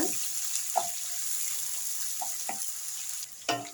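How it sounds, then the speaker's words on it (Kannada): Onions and green chilies fry in a pan, giving a soft steady sizzle with scattered faint pops and crackles, close and quiet, with no talking. "ಇವಾಗ ಇದು ಫ್ರೈ ಮಾಡ್ಕೊಳ್ಳೋಣ"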